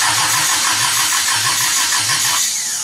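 A 1972 Toyota Celica with a swapped-in 18RG engine, ignition timing set well retarded, runs loud and close, its steady roar carrying a rhythmic low pulsing that eases slightly toward the end.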